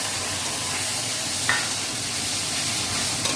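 Tomato tipped into hot oil tempered with five-spice seeds for a tomato chutney, sizzling in a steady, dense hiss close by, with a faint stir or two.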